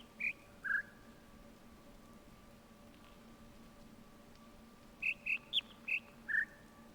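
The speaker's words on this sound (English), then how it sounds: "I can still hear a bird as well." Bird chirps in a puzzle video game, two short calls near the start and a quick burst of five or six after a pause, each bright and fairly close over a quiet steady hum.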